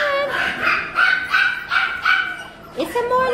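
A small Maltipoo dog yips and barks in a short run of high, close barks, a soft whimpering tone between them, with faint voices nearby.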